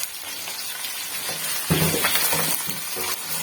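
Ground coriander, fennel, salt and other spices sizzle loudly in hot oil for a mixed vegetable pulao, a dense, steady crackling frying sound up close that swells briefly midway, with no voices.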